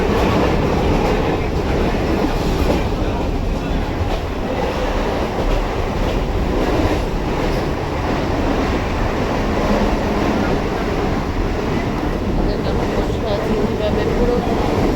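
A passenger train runs with people aboard, heard from inside as a steady rumbling roar with faint rhythmic wheel clatter, and indistinct voices low under the noise.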